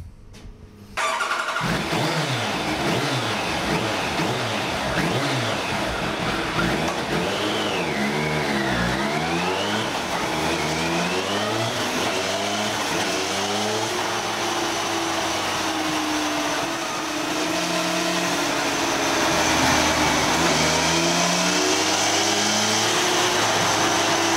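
A motorcycle engine with fuel fed straight into the carburettor cranks, catches and fires, then revs repeatedly up and down with rising and falling whines before settling into a loud, steady run close by.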